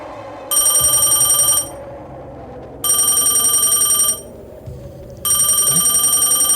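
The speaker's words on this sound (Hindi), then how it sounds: "लगता है इसके पापा का फोन आ रहा है।" A telephone bell rings loudly and close by in three long bursts, with short quiet gaps between them. No one speaks.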